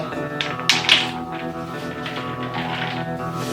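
A pencil taps on a wooden surface with a few sharp, close knocks early on, then fainter ticking over a steady tonal hum.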